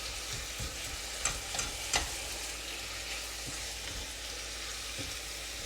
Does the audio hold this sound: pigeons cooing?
no